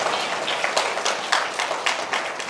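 A church congregation claps steadily, a dense wash of applause with a few louder, rhythmic claps rising above it.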